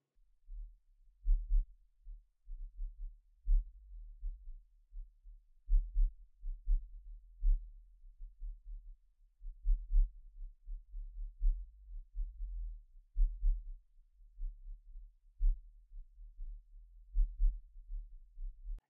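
Bass test track played back through a Hidizs MP143 earphone, a deep, throbbing low-end pulse repeating in a steady beat for the whole stretch, with no voices.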